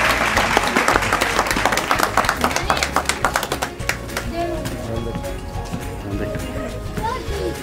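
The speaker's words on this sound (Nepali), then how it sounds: "ताली बजाइदे सबै, जोरदार तालीका साथ स्वागत गर्नुहोस्" A seated audience at a donation program in Nepal breaks into dense, loud clapping that fills the first half, then thins into scattered claps while a voice and tonal sounds carry on.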